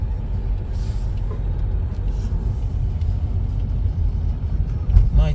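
A Bucharest STB city bus rumbles past on the road by a house, its engine a steady low drone with a brief hiss of air brakes near the end, loud and close.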